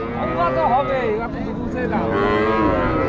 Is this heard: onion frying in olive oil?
no